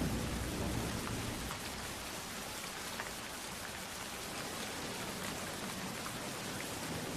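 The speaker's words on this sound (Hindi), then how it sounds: "बारिश की बूंदें भारी होकर जमीन पर गिर रही थीं" Heavy rain pours down steadily in a stormy horror-story scene, a dense continuous hiss of drops hitting the ground with a faint low rumble of thunder underneath, loud and unbroken throughout.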